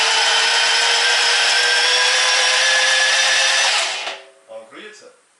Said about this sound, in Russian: будет первый запуск без свечей, чтобы там, ну, масло давление подняло в системе